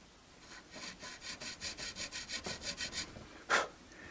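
Hand filing or sanding of a tusk guitar nut for a Fender Modern Player Telecaster, heard as a steady series of about fifteen rhythmic rasping strokes, close and moderately loud, followed by a brief sharper scrape near the end.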